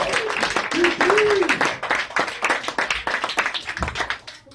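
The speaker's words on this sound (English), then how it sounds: "Give a big round of applause for Ben Peterson, everybody." An audience at a stand-up comedy show in Anchorage, Alaska claps for a comedian, a brisk patter of many hands that tapers off, with some cheering and a voice over it.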